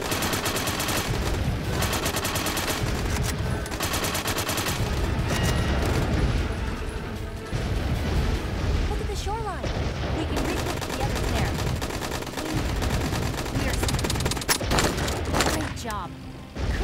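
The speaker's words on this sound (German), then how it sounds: "Na komm, schieß!" Dense, continuous gunfire from a VR dinosaur-hunting shooter game rattles in rapid bursts and booms, with a player talking over the barrage throughout.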